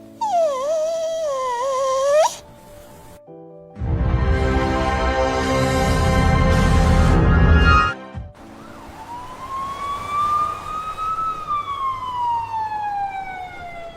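Pet dog Tommy, tied up on a rooftop, lets out a wavering, high whimpering whine at the start. A loud burst of broad noise follows, then a long siren-like rising and falling tone. No one speaks.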